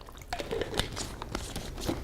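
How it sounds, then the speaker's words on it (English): Water is poured into a pot of goulash, a close, wet run of splashing and dripping lasting about two seconds. "I'm going to add about a 1/2 cup of water"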